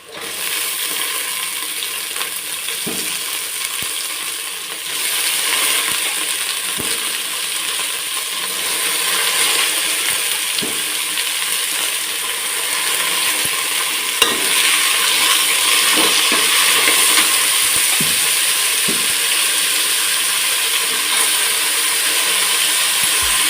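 Sprouted grains fry in a tempering of cooked onion and a dried red chilli for a home-made sambar, with a spoon stirring them. A constant close sizzle runs throughout, broken by scraping and clinking against the pan.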